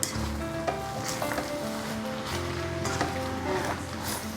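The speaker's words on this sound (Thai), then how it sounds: "ผัดไปเรื่อย แล้วผัก แล้วกับเส้นเขาก็จะสุกพร้อมกันพอดี" Wide rice noodles stir-fried with soy sauce, sugar and vegetables in a pan, giving a steady sizzle with scraping stir strokes throughout, mixed with a low background rumble.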